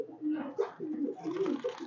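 Soft, repeated throaty coos from pigeons at a pigeon farm, a steady close-up burbling murmur with no talk over it.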